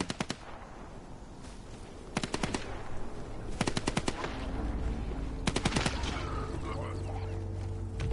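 Gunfire in the video game Dying Light The Beast: repeated rapid automatic bursts crackle over a rumbling background, clustered in several separate volleys, loud and sharp, with a low steady hum underneath.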